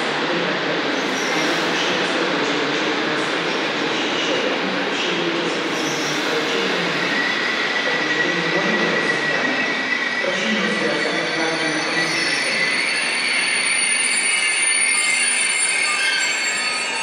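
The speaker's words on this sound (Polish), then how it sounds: "Intercity Artus z Gdyni" An Intercity Artus train from Gdynia to Przemyśl moves through Kraków Główny station, with a loud, continuous roll of railcars and wheel squeal carrying steadily throughout, and no voices.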